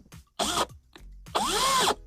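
Two short bursts of a brushless cordless power drill spinning up and winding down, the second burst longer. The whine is loud and close, with quiet pauses between the bursts.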